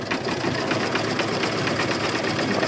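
Sewing machine running with the presser foot lowered, giving a steady rapid mechanical whirr and stitching patter, close and continuous throughout, with no talking.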